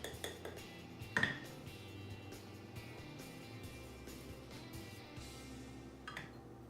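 Black bean burger ingredients are mixed in a bowl, producing faint clinks and scrapes of a utensil against the bowl, with one sharper clink near the start and quiet rustling after.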